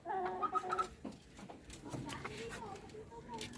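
A chicken from Bataan clucks in a few short, quiet bursts close by, amid faint background voices and room noise.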